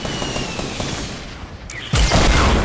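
Rocket explosions and heavy gunfire in a fast-paced shooter video game, a dense continuous barrage that swells into a louder burst of blasts near the end.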